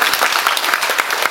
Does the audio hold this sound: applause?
yes